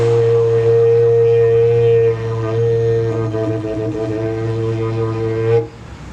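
A Bronze Age Irish horn blown as a single sustained drone, with a strong steady low fundamental and bright overtones that shift in colour as mouth shape and tongue position change, stopping abruptly near the end.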